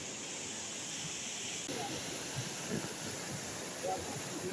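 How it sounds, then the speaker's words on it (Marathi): Steady broadband rush of a river flowing over rock in dense forest, fairly close, with buffaloes sitting in the water, faint scattered voices and small splashes rising now and then. "मस्त नदी वाहते इथे"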